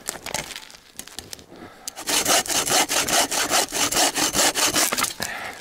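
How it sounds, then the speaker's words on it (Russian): Wood is hand-sawn for firewood at a snowy forest camp, a few scattered strokes at first, then a steady run of loud, rhythmic rasping push-pull strokes close by. "Сейчас на дрова пильнем."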